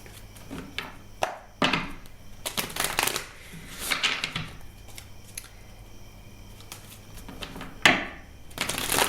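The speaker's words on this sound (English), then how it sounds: "I'll draw some clarification cards right now." Tarot cards being shuffled and drawn close by, with repeated papery riffles and flicking bursts, some louder snaps near the start and end, and quiet pauses between.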